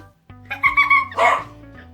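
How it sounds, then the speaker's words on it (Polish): A dog barks and yips in a few quick, fairly loud bursts close by, with a lower steady hum underneath and no talking. "No, szczeka tu"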